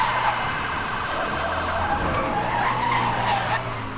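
Tyres skidding as a car slides sideways at high speed in Need for Speed: Hot Pursuit (2010), a loud continuous screech layered with engine roar and police sirens.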